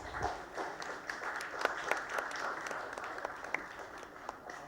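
Hall applause at a nursing awards ceremony, a moderately soft, continuous patter of many hands with crisp individual claps standing out now and then.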